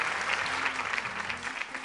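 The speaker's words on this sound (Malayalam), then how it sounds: "അതൊക്കെ ഒരു പെരിയ കൈയടി കൊടുക്കണം ആ പോർഷൻ" Sustained audience clapping in a televised dance competition studio, steady and moderately loud, with faint voices mixed underneath.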